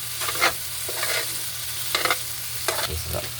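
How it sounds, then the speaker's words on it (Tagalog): Potatoes frying in a pan with corned beef, with a steady background sizzle broken by several scraping bursts of stirring, close and moderately loud with no talking. "Ang niluluto po natin ay patatas ha."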